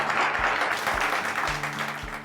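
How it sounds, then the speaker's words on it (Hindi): Studio audience applause on a Hindi talk show, a steady wash of clapping filling the whole moment at moderate loudness with low thumps underneath. "जोरदार तालियां एक बार"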